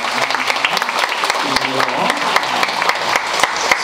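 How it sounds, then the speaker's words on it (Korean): A church congregation claps to welcome a new member, a lively burst of many hands with voices speaking and murmuring underneath. "박수로 환영하겠습니다."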